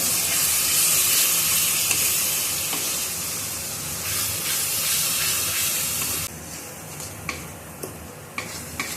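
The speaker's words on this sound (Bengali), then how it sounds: "তো মশলাটা আস্তে আস্তে ভাজা হোক, তারপরে আমি চিকেনটা দিয়ে দেব" Spice masala fries in a pan outdoors on a breezy morning, a continuous close sizzle with scraping stirs and occasional clicks of a spoon against the pan, easing slightly toward the end without any voices.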